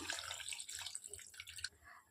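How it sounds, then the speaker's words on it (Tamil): Half a glass of water poured into a pan of pineapple pieces while cooking, heard as a brief, fairly quiet splashing trickle that fades before a sharp click at the end. "அன்னாசி பழம் வேகிற அளவுக்கு ஒரு 1/2 டம்ளர் தண்ணி சேர்த்துக்கலாம்."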